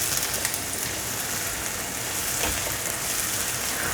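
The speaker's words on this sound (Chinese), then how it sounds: "锅内放入适量的香油，把蘑菇放进来炒香。" Mushrooms stir-frying in sesame oil in a wok, giving a steady, even sizzle close by with a faint crackle and no voices.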